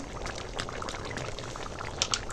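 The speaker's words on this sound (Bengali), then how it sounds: "তো দেখো তরকারিটা এখন ফুটছে" Thick mutton curry bubbling in a pot close by, irregular blips and gurgles with a couple of brighter pops near the end.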